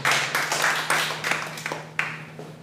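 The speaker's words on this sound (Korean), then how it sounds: "동의하면 박수 한번 쳐주세요" A lecture audience claps: a short burst of applause that comes in uneven, fading pulses over a steady low hum.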